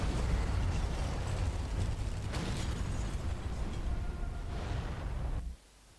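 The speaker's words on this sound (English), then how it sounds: "Guess that's one way to end the mission, with a massive explosion." Massive chain-reaction explosion in the Sniper Elite 4 video game, a long loud rumbling roar with crackling bursts that rolls on for several seconds, then cuts off abruptly to quiet.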